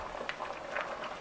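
Pot of water with poke sallet at a full rolling boil, soft continuous bubbling and popping, fairly quiet and close, with no talking.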